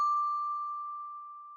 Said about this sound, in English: Repeat with the bell.